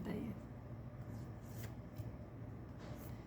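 Tarot cards being shuffled by hand up close, a steady papery rustle lasting the whole stretch, broken by a few brief crisp snaps of cards slapping together, over low background murmur.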